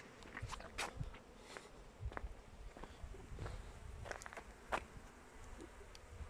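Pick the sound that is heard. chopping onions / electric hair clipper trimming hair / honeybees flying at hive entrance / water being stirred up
honeybees flying at hive entrance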